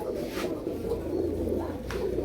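Pigeons coo in low, soft, rolling calls, repeating steadily and close by with a faint background hum.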